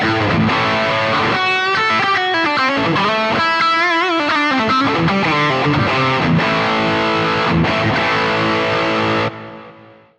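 An electric guitar is played through a Friedman BE-OD overdrive pedal on a Boss GT-1000 with every control at twelve o'clock, giving a thick, saturated crunch of chords and riffs, loud and close, ending on a ringing chord that is abruptly cut off.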